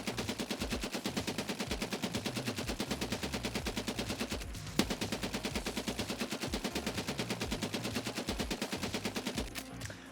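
An M60 machine gun in the video game Escape from Tarkov fires long, rapid sustained bursts, loud and close, with one brief pause midway and no talking.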